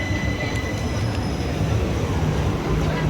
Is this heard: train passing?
yes